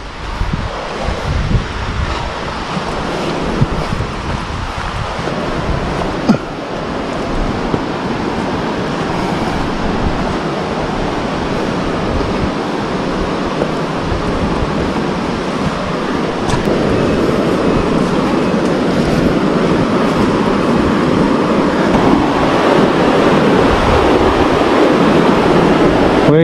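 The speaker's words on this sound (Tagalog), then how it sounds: "Medyo malakas din yung agos ng tubig." Strong current of flowing water at a river spot on a road trip in southern Luzon, a steady loud broadband rush that holds the whole time, with no voices heard over it.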